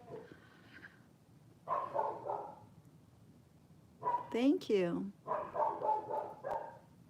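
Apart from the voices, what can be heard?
dog barking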